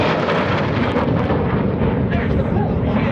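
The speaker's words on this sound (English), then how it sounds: "It's the high-speed pass." A 1950s-built jet makes a high-speed pass near the speed of sound at the 2017 Rhode Island Air National Guard open house airshow, producing a loud, continuous, rumbling roar that fills the moment.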